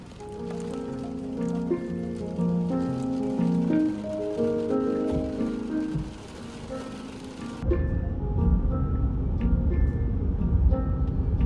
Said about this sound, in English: Well, it's raining again.